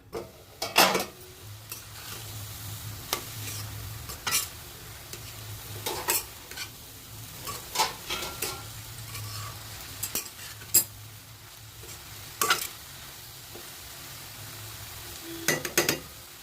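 Radish bhaji being stir-fried in a pan, with repeated sharp scrapes and clinks of a spatula against the metal every second or two over a low, steady sizzle, fairly quiet and with no talking.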